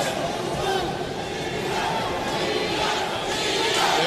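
A boxing arena crowd swells with cheering and shouting during the David Diaz vs Erik Morales fight, a steady roar with commentators talking over it.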